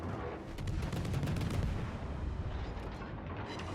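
Warship guns firing in a naval battle video game, a dense rumbling barrage of heavy booms rolling continuously at steady loudness, with no talking.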